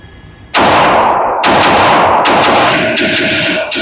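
Shots from a WT Demolitia firearm at an outdoor range: four loud, sharp reports in quick succession, each cracking out with a ringing decay, close and alone without talk.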